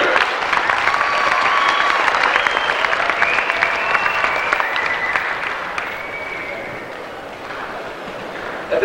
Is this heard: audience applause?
yes